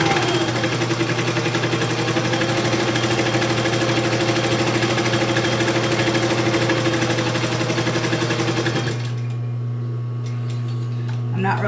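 Walking foot sewing machine stitching a leather clutch wallet, a loud fast mechanical clatter running steadily and then stopping abruptly, leaving a low motor hum and a few small clicks.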